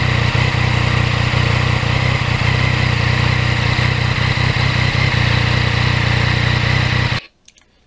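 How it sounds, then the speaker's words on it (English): A 2020 Yamaha MT-09 motorcycle engine runs smoothly at a steady, loud, close hum with a faint pulse, continuing for several seconds before cutting off abruptly near the end. "Bike running like a Rolex watch."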